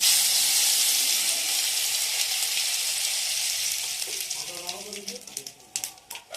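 Radhuni spice seeds sizzle in hot oil in a pan for Bengali neem sukto, a steady loud frying hiss that fades toward the end as stirring and clatter take over.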